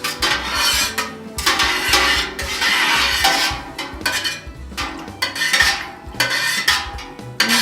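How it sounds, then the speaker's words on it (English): Buttermilk being stirred and scooped from the bottom into a cheese mixture in a pot, with repeated scraping and clinking of a utensil against the metal pot in uneven bursts, close and fairly loud. "Careful to kind of scoop it from the bottom and just thoroughly mix it"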